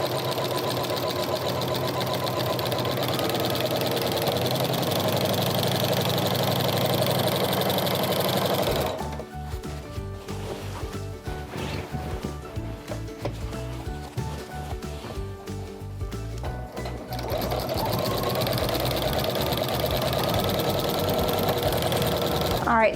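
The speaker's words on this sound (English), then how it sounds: "Stitch 2 forward, stitch 2 back, everything nice and lined up, and start sewing." A sewing machine stitching a quilt with a walking foot runs with a steady, fast mechanical whirr and needle clatter. The sound is close and continuous, changing character partway through as the stitching pace shifts.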